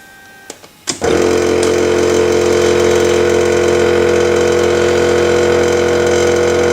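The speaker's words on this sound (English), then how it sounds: "the pump is now returning the gas from the storage bag to the gas compartment" A Rapidox 6100 gas analyser's pump cuts in after a couple of faint clicks and then runs at a loud, steady mechanical hum, returning gas from a storage bag to a gas cylinder.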